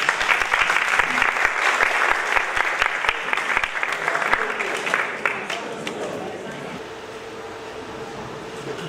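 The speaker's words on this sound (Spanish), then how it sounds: "Muchas gracias y un aplauso" A conference audience claps for several seconds, a dense burst of applause that gradually thins and fades toward the end, leaving quieter room noise.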